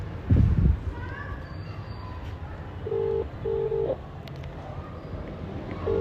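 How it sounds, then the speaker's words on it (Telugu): Three short electronic dial tones beep in a quick sequence over a low background hum, with a brief thump near the start. "ఫోన్ చేస్తున్నా"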